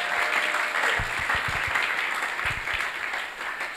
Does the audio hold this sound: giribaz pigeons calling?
no